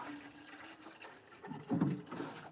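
Warm water poured from a can onto potted plants in a home greenhouse, a soft splashing trickle that swells into a fuller, closer gush near the end, with no talking.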